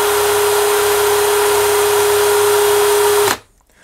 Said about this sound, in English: put your drill in reverse, hold on to it tight, and for like 2 to 3 seconds, just spin it full speed